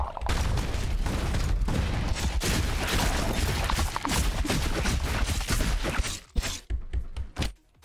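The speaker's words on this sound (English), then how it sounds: "Another plasma cannon?" Plasma cannon fire in the video game Dreadhunter, a dense, loud barrage of rapid blasts and impacts that runs continuously for several seconds before breaking into a few separate hits at the end.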